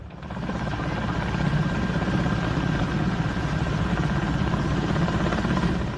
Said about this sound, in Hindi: हेलीकॉप्टर कुछ देर हवा में स्थिर हो गया और हेलीकॉप्टर से राहत सामग्री गिराए जाने की रफ्तार बढ़ गई